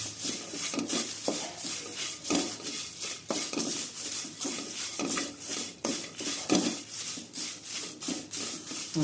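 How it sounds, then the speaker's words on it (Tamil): Curry leaves dry-roast in a pan until crisp, with repeated rhythmic scraping and rustling strokes of a spoon against the metal, steady and fairly close throughout. "நல்லா இந்த பாருங்க சத்தம் கேட்கும் இது மாதிரி மொட மொடன்னு அது வரைக்கும் வறுத்துக்கோங்க"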